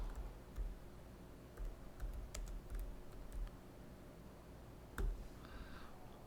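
Fingers typing on a computer keyboard, entering an email address while creating a user in MPS Monitor software; quiet, close bursts of key clicks with short pauses, no voices.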